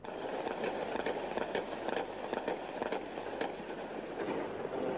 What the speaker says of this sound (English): the occasional thud of shelling or crack of gunfire